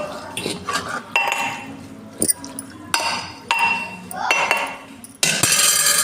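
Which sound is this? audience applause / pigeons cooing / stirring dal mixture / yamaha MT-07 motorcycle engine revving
stirring dal mixture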